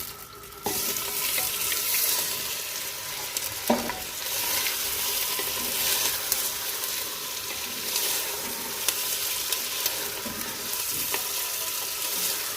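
Mutton pieces dropped into browned fried onions in a pan, giving a steady close sizzle with stirring scrapes throughout and no talking.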